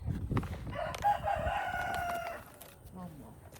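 Chickens on a homestead, a rooster crowing clearly near the start followed by softer clucking, fairly close and moderately quiet, with low background noise.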